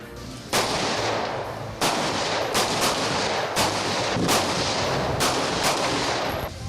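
Loud pistol shots ring out one after another at irregular intervals at an outdoor shooting range, each a sharp crack with a brief echo, over a steady outdoor background.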